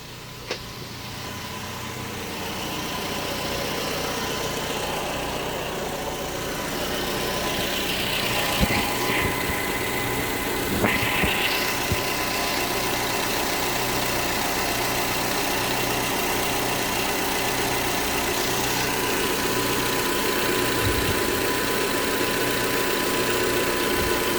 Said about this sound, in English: The noise I'm hearing is like it's belt driven, but it's smooth.